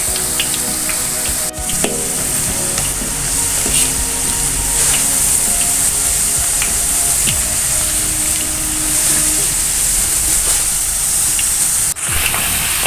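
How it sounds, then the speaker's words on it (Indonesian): Potato slices deep-frying in hot oil until dry and crisp for balado chips, a steady dense sizzle and crackle holding at constant loudness throughout, with faint clinks now and then. "Kentangnya kita goreng sampai kering Bunda."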